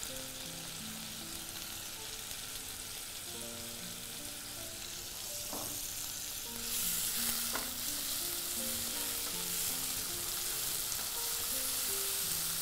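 Cinnamon, cloves, onion, tomato and slit green chillies sautéing in a pan for a cardin curry. A constant dense sizzle runs throughout and gets a little louder halfway, with a couple of brief stirring knocks.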